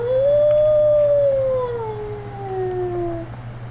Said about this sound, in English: Shadow in his lone howl